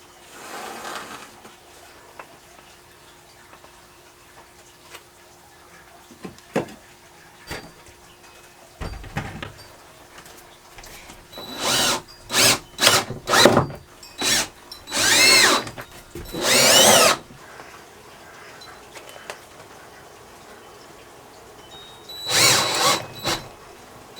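Power drill screwing wooden 1x2s for a van cabinet: short bursts of whirring, with scattered clicks and knocks before them, close and moderately loud, and no talking.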